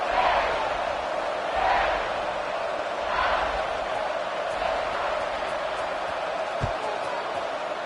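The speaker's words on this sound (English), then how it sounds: "this crowd is buzzing after that last score" A stadium crowd at a football game buzzes steadily after a score, a dense roar with a few swells that holds throughout.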